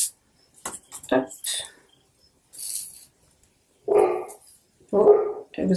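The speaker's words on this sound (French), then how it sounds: "Oh, et vous allez entendre mon chien." A household dog barks a few times through an open window, short sharp bursts that come through at a moderate distance, with quiet gaps and light indoor handling noises in between.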